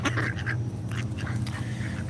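A Pekin duck quacks in a quick run of loud, nasal calls that repeat almost continuously over a low, steady background hum.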